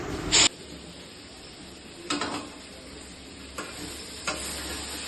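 Meat stirring and frying in a pan, with a steady sizzle and a few sharp scraping stirs spaced out over several seconds, close and fairly loud.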